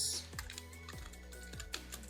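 Typing on a computer keyboard: a quick run of soft key clicks and taps, close and fairly quiet, with no talk over it.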